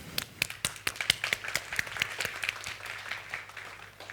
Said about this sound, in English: a big round of applause to yourself